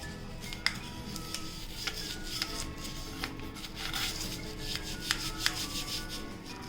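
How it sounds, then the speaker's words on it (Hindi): A bristle brush rubs over a bathroom tap in close, steady scrubbing strokes, with scattered sharp clicks and scrapes as it catches the metal. Nobody speaks. "अब इस नल को मैं ब्रश की मदद से थोड़ा रगड़ लूँगी"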